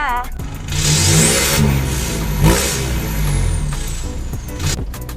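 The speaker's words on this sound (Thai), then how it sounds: "ไปฟังเสียงเครื่องกันเลยค่ะ" A 2021 Isuzu D-Max 1.9 S Cab pickup engine revving close by, loud and sustained, with the pitch rising and falling through several throttle blips.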